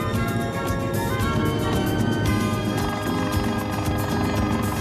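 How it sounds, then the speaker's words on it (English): A helicopter flies nearby during a 1984 Cousteau Amazon expedition, its steady loud rotor roar and engine whine filling the scene continuously with no voices. "Leaving his ship by helicopter"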